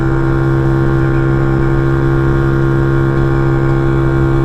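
A motorbike rolls down steep Edge Hill with the throttle closed, giving a loud, continuous engine and wind drone with a steady tonal hum and no talk.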